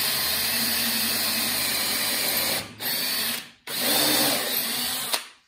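A power drill with a brad point bit whines steadily into walnut wood, stopping briefly twice and restarting, close and loud, with no talking.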